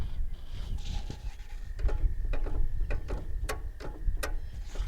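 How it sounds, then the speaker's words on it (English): Clicking and ratcheting of the brake and clutch pedal on a B-10 as its band brake engages, a series of sharp mechanical clicks over low rumbling background noise. "So this is the brake and clutch. When you press it in, there is a band brake over here."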